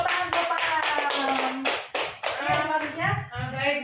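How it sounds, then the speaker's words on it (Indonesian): A small group claps at a primary school meeting, SDN Drokilo II, quick, rhythmic claps close by, overlapping with a speaking voice. "Kasih tepuk tangan Bapak"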